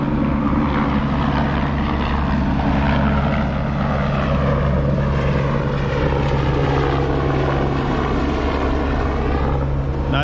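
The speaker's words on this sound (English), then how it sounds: "I hear a helicopter taking off." A helicopter takes off near a train route between Fairbanks and Denali, its rotor and engine producing a loud, sustained droning whir with a steady low hum that continues throughout, heard alone.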